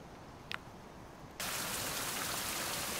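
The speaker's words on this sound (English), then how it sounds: "It's flipping raining again." Video game rain starts abruptly and holds as a steady, loud hiss of falling rain, preceded by quieter ambient noise and a brief faint chirp.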